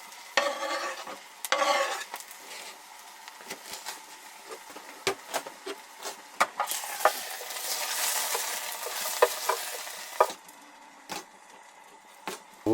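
Onions and garlic fry in a pan on a firebox stove in a hot tent, with a soft sizzle beneath repeated close scraping and clacking as a utensil stirs them.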